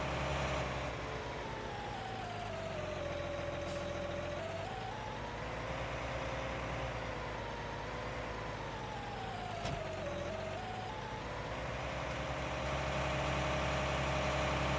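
A John Deere tractor engine in Farming Simulator 19, out disking a field: a steady mechanical drone whose pitch sags and rises twice as the revs change, with a couple of faint clicks and no talk.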